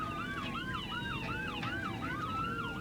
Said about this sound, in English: attention-seeking vehicle that we call an ambulance, right?